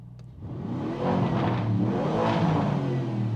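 A 2022 Lamborghini Urus 4.0 V8 SUV engine revs up hard in sport mode and holds a loud, throaty roar, the pitch rising and falling close by with no talking.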